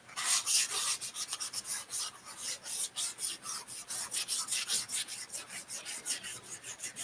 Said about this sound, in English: sand this thing or scuff it a little bit with some like I think this is 500 grit, but some fine sandpaper.